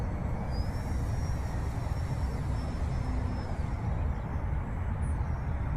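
A Leader 480 model airplane flies overhead, a faint thin whine steady above a loud, constant rumbling wind noise close to the microphone.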